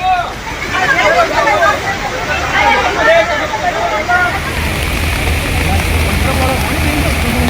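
Floodwater surges through a city drain in Jodhpur after heavy monsoon rain, a loud, steady rushing roar running throughout under overlapping voices and crowd chatter.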